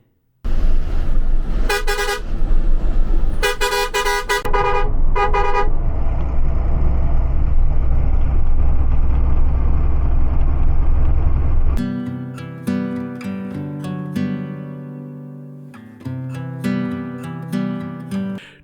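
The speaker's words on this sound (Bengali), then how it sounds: "ঘড়ি ধরে ঠিক দশ মিনিট পরে আমাদের বাস এবার রওনা দিল চূড়ান্ত গতিবেগে আরামবাগ থেকে দীঘাগামী পথে" A night Volvo bus travels the road from Arambagh toward Digha: steady loud engine and road rumble, with a couple of sharp horn blasts early on and a multi-tone musical horn sounding later.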